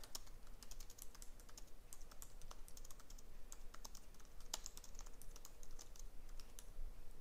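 Steady, rapid typing on a computer keyboard fills the whole stretch, a close run of dense key clicks with no pauses and no voices.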